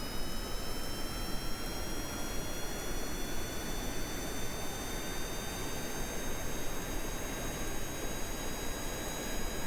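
Steady roar of a rocket or jet vehicle engine in the game Kerbal Space Program, loud and constant throughout with a broadband rush and faint high whining tones, no talk.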